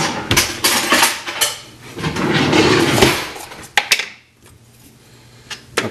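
A utensil scooping peanut butter into a container, with clattering knocks and scrapes against the container in busy close bursts, then a quieter pause and a few sharper taps.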